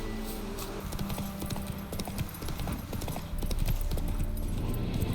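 Hooves of the horse Roach in The Witcher 3: Wild Hunt, a fast, rhythmic clip-clop of a galloping or trotting horse. It runs steadily throughout, close and fairly loud over a faint ambient bed.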